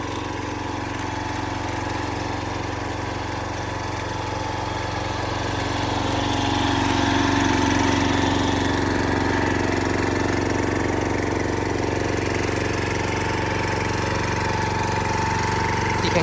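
An old Japanese ISEKI rotary tiller engine runs steadily at a close, loud idle, with a constant mechanical drone that swells slightly partway through and no voices.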